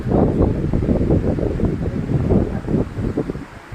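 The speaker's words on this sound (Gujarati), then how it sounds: "મસ્ત પવન." Wind buffets a microphone outdoors in steady gusty rumbles at an industrial site, loud and close, with no talk.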